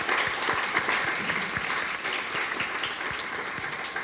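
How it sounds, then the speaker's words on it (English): Dense, steady applause from an audience at a ballet school awards ceremony, sustained and even for the whole stretch with no pauses. "I think your parents would help me in giving you a round of applause for your achievement"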